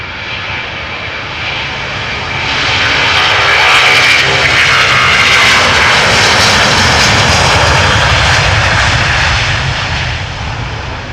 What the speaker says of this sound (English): Delta is taking off from Polderban. Loud already.